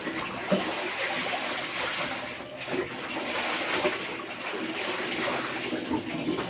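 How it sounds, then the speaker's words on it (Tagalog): Tap water running steadily from a faucet during laundry rinsing, a continuous hissing splash with small irregular spatters, fairly loud and close, no talk over it. "tumutulo lang yung gripo natin"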